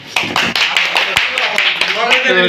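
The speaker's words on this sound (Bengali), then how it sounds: "আবার আমরা একটু হাততালি দিই ওর জন্য" Audience clapping for the winner of a contest to eat bread without using hands, a brisk run of close hand claps with voices talking over it.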